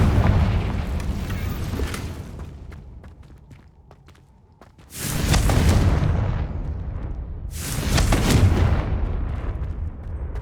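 Confringo spell blasts in the Hogwarts Legacy video game land as two loud, booming bursts a few seconds apart, each decaying into a rumble, with quieter scattered game sounds between them.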